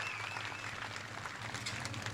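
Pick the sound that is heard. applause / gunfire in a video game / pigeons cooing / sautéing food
applause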